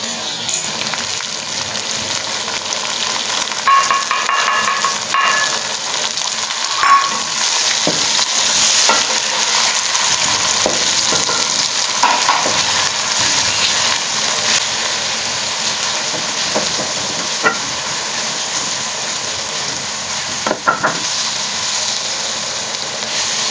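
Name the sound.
frying tomatoes and green chillies in pan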